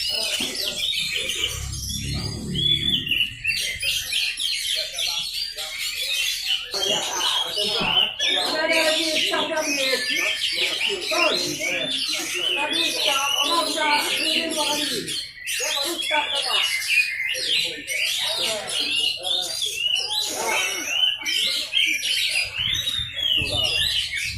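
Oriental magpie-robins (kacer) sing at a songbird contest in Meulaboh: dense, continuous, shrill chirping and warbling runs throughout, with voices talking underneath.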